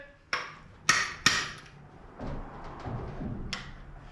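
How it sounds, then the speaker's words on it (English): A hammer swung repeatedly at a loaf of bread packed in to drive out a bushing during a drivetrain install, giving three sharp, close impacts early on, then duller knocks and one final strike. "he's just swinging away with that hammer at a loaf of bread"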